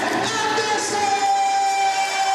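Basketball crowd at a Manchester vs Cardiff Met Archers SLB Championship game cheering and celebrating, a loud, steady wash of shouts and applause filling the arena, with a thin whistle-like tone running through it.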